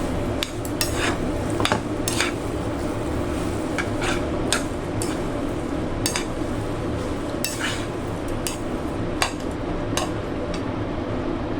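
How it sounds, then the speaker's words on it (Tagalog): Pancit bihon and sotanghon noodles with vegetables stirred in a pan, a utensil clinking and scraping against the metal in repeated irregular strokes over a steady low background hiss, close and fairly loud. "Ayan, haluin lang natin."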